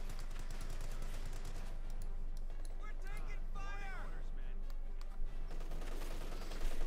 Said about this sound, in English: the Paratroopers with the double light machine guns just hanging into the unfortunate bastards